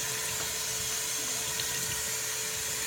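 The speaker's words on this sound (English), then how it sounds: "So let me go ahead and rinse off the Swiss chard." Swiss chard leaves rinsed under a running kitchen tap, giving a steady, even rush of water that holds at the same level for the whole stretch with no talking.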